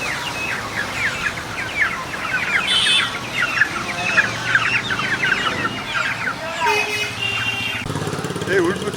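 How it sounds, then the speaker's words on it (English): Many chickens cluck and squawk continuously nearby in a chicken and egg shop at a busy bazaar in Rajgir, India, with a steady background hum and a few other noises mixed in. "Chicken and egg shop. A lot of chickens."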